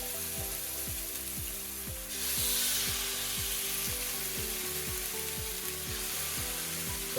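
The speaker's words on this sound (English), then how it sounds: "I've got 6 thighs, so we're going to cook these on both sides until they're browned on both sides and cooked through." Six seasoned chicken thighs sizzle loudly in a frying pan, a dense, steady crackle that swells after a couple of seconds, set against a regular mechanical ticking underneath.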